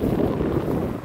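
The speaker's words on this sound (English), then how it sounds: "It's also a bit windy today as well." Wind buffeting the microphone in an open farm field beside a busy road, a steady low rushing roar with no pauses for the whole moment.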